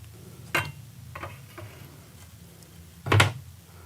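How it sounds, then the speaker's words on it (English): A push bar handle being fitted onto a commercial glass storefront door gives a light tap, a few soft ticking knocks, and then a firmer metallic clack as the bar seats onto its bolt, all close up and with no voices. "I'll screw the cap into the door first, set the push bar, and then add my set screw."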